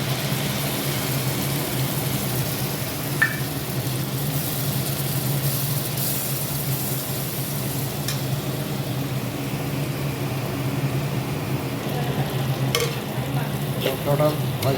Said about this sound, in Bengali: এবার ভেজানো মশলাটা দিয়ে দেবো